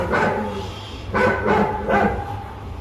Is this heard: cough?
no